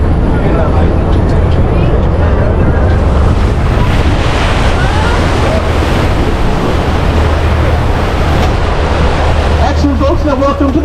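An amphibious tour vehicle enters the water of Halifax Harbour amid loud, continuous rushing water and wind buffeting, with a heavy engine rumble beneath and voices talking over it.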